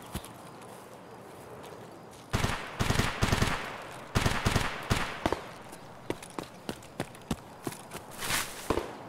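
Gunfire in Escape From Tarkov rings out in sharp bursts: a cluster of rapid shots, another volley, then spaced single cracks, fairly loud over a quiet background.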